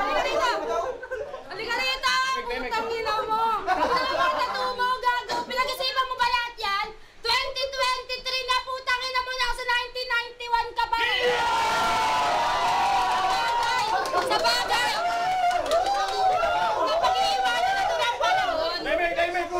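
Crowd at a live event shouting and cheering, a dense wash of overlapping voices that swells into a sustained loud roar in the second half, with voices talking over it.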